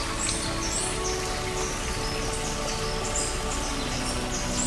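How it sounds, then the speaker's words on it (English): Rain falls steadily outdoors in a dense, even hiss, while birds chirp faintly in the background. "the rain came on."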